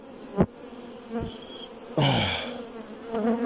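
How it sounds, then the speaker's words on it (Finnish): A honeybee swarm buzzes around hive boxes, with single bees droning past close by in short swells and a louder burst of buzzing midway, over a faint steady hum of the colony. "Nämä on ihan mielenkiintoisia nämä mehiläiset."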